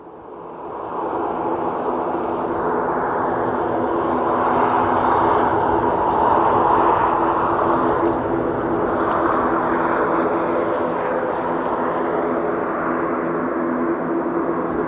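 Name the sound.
Loganair airplane coming down toward the runway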